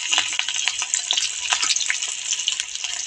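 Curry leaves, green chillies and cumin sizzle steadily in hot oil for a dhokla tempering, a close, dense crackle with sharp pops throughout.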